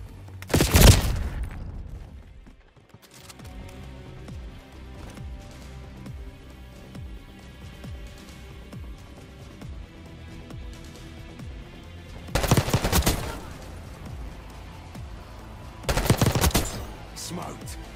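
Gunfire in Call of Duty Black Ops 6 multiplayer: a few loud bursts of rapid shots stand out above a busy game soundscape with background chatter, and quieter stretches lie between the volleys.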